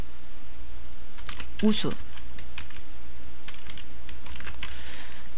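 A formula being typed on a computer keyboard in spreadsheet software: a short cluster of crisp key taps over a steady hum, with a voice speaking briefly.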